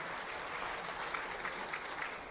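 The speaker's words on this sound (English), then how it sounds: "Can we once again put a huge round of applause for Dr. Charudatta?" An audience at a corporate live event gives a round of applause, a steady wash of clapping from many hands heard at moderate distance with no talk over it.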